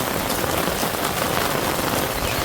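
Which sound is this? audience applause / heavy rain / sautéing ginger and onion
heavy rain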